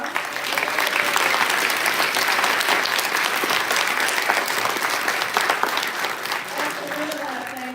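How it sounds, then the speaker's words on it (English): An audience at a congressional town hall claps loudly and steadily, a thick sustained burst of applause that tapers slightly near the end as a voice begins underneath. "Let us give you a round of applause."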